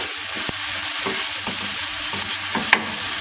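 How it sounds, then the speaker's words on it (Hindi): Spices stirred and frying in a pan, a steady loud sizzle with scraping spoon strokes and a few sharp clinks against the pan, close up and without speech. "तो पहले एक बार मसाले को मिक्स कर लेते हैं और भून भी जाएंगे साथ में।"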